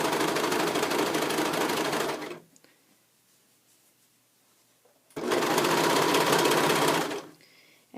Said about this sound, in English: And I'll just serge right along the edge here, kind of making sure this is lined up as we go.